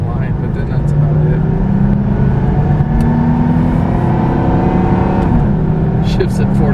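A Ford Foxbody car launches hard from a standstill, its engine roaring loudly and climbing steadily in pitch through one long pull, heard from inside while people talk over the noise.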